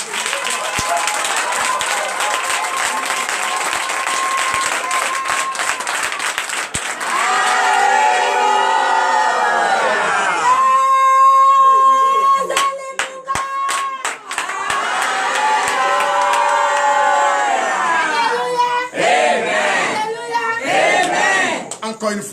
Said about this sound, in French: se lève et donne de vive acclamation.